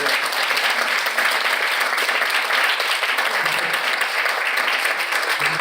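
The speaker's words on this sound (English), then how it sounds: "A round of applause for yourselves." Sustained audience applause fills a book talk and signing event, a steady, dense wash of many hands clapping at even loudness throughout with no voices over it.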